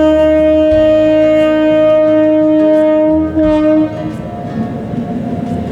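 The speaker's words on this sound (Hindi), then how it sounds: "ट्रेन पार होगा।" A train passing a small railway level crossing near Hatia station in Ranchi, sounding a loud sustained horn, then the close rumble and clatter of wagons rolling by.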